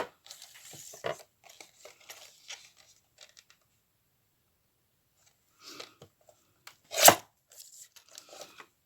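Cutting material for a transparent sequin notebook cover, with scattered crisp snips and crinkly cuts in short bursts separated by a long quiet pause, then one louder sharp cut near the end, close up.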